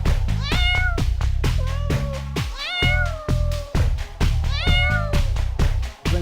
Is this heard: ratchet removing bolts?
no